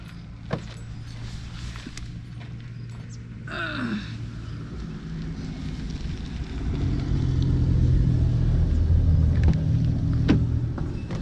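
Car on the road with a steady low engine rumble and road noise, a brief whirring power-window sweep early on, and the rumble swelling as it speeds up.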